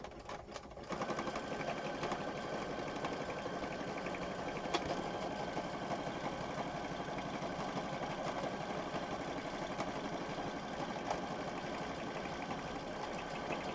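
A sewing machine runs steadily and continuously at close range, a fast even mechanical whir with rapid stitching rhythm, no talking.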